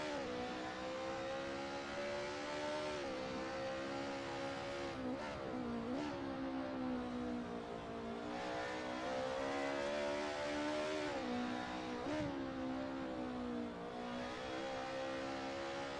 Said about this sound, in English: Back all the way to first gear and accelerate as soon as the car straightens up.